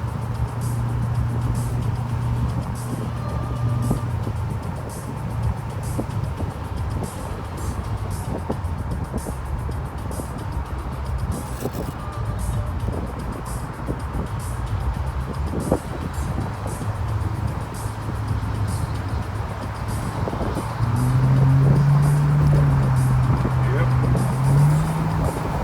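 A 1981 restomod Turbo Trans Am cruises in freeway traffic, its engine a steady low drone beneath road and wind noise, with someone talking over it and the engine swelling louder near the end.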